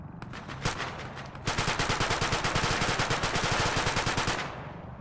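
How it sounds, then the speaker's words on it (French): Video game gunfire in Arma: a few single shots, then a sustained rapid automatic burst of loud, evenly spaced reports lasting several seconds before ending abruptly. "Autorisation d'ouverture de feu"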